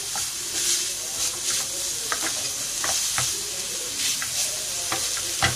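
Beef and potato cutlet mixture frying in a pan, a steady close sizzle broken by scraping stir strokes of a spoon against the metal, with no talking.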